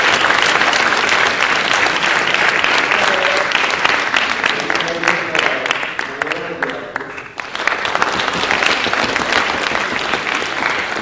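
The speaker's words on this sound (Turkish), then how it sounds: "O valideynlerimize de bir alkış lütfen." An audience at an event claps loudly and steadily, a dense wave of applause running about eleven seconds with a brief dip in the middle where voices come through.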